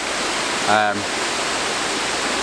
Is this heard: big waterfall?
yes